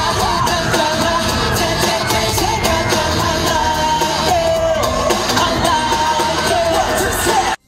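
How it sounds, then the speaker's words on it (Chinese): Fans scream and cheer continuously at a fan meeting concert, a dense loud crowd roar with whoops and yells that cuts off abruptly at the end. "让现场粉丝尖叫声不间断"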